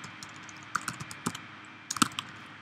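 Irregular clicks of keys being typed on a computer keyboard, close and crisp, coming in small bursts with short pauses, no talking.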